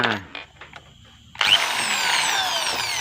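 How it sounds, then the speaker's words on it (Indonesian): Power drill boring into a part of a kelulut stingless-bee honey extractor being built, starting abruptly after a quiet stretch with faint handling noises, then a loud, steady whine that holds to the end. "kita akan bor di bagian sininya."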